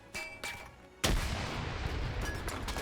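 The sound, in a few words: grenade explosions in WW2 video game (Arma OFCRA)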